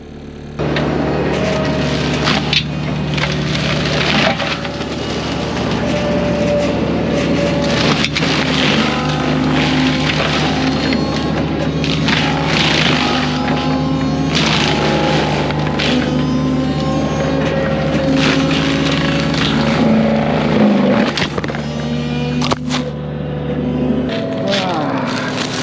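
A forestry mulcher grinds through brush on a controlled-burn site, its heavy engine droning steadily with strong low harmonics and crackling chipping bursts throughout, cutting off near the end; a voice talks briefly over the machine.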